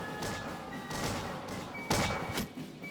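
Grenade blasts in a Bannerlord 1700s Empires of Europe mod battle, a few dull thuds and bursts amid battlefield din, with one stronger boom near the end.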